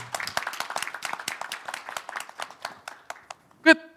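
Audience applause at a Korean integrated case management talk show, a brisk run of handclaps that thins out toward the end, followed by a brief sharp tone.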